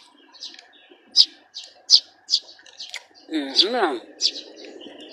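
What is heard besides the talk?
sparrows (maya pipit) chirping around the speaker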